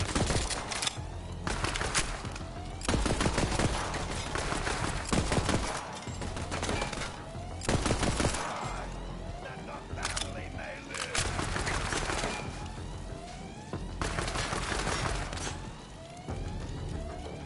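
Gunfire from a gun in the video game Borderlands 3: repeated bursts of rapid shots in irregular clusters, loud and sharp, with game effects and a voice talking in between.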